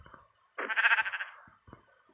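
A single Minecraft sheep bleats once, a clear wavering baa rising briefly out of quiet game background with small clicks around it.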